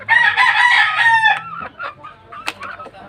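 Hens, chicks and a rooster in a backyard coop, with a loud rooster crow up front followed by scattered clucks and short calls nearby.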